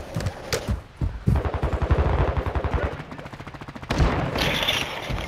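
Rapid automatic gunfire from Call of Duty: Modern Warfare II, sustained bursts of fast, loud shots with a few separate cracks before and after, close and dominant in the mix.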